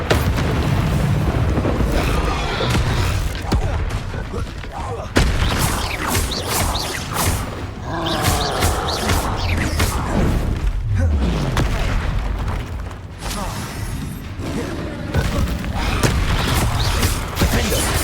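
Spell explosions from Confringo and Bombarda in Hogwarts Legacy combat: continuous heavy booms, crashes and whooshing blasts stacked densely for many seconds, loud and chaotic with little pause.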